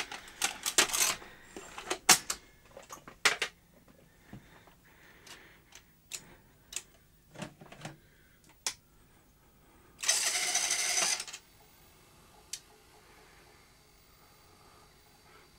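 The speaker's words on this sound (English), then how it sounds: "Let's switch this off and get the tape out." Tape ejected from a Philips N1502 video recorder: a series of close mechanical clicks and ticks, then a brief whirring motor burst and a few more clicks, with no talking.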